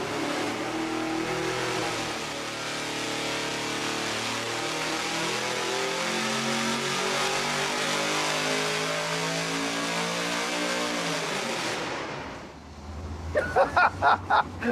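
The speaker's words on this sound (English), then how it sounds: "This next run is going to be with 8 feet of straight pipe." A dyno-mounted engine running open through 8 feet of straight exhaust pipe holds a loud sustained roar for about twelve seconds, then cuts off, followed by a few sharp blips.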